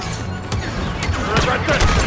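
Blaster fire crackles through a Star Wars Battlefront II firefight, with sharp repeated shots and crashing impacts packed into a chaotic stretch, while voices call out over the din.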